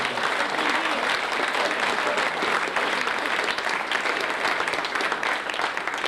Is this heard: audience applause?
yes